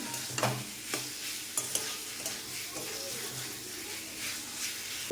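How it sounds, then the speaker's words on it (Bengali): Fried potatoes are stirred in a hot pan of cooking spice paste, giving a soft, continuous sizzle with repeated scraping clicks of the spoon, fairly quiet and close. "এবার আমি এর মধ্যে ভেজে রাখা আলুটা দিয়ে দেব। আলুটা দিয়ে আবার কিছুক্ষণ কষিয়ে নেব আমি।"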